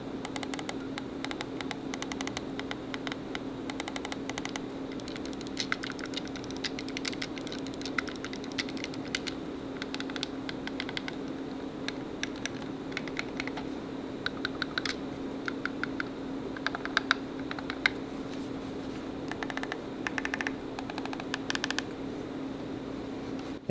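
Buttons on a Flydigi Apex 4 Black Myth Wukong edition game controller being pressed, rapid light plastic clicks in irregular bursts, close and fairly quiet over a constant low electrical hum, with no speech.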